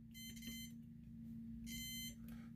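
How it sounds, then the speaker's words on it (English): A multimeter in continuity mode gives two clear electronic beeps while pins on a non-booting SNES cartridge board are probed, each tone lasting about half a second, separated by a short quiet gap over a low background hum. "use my multimeter, have it set into continuity mode. So it's going to beep when you complete the circuit"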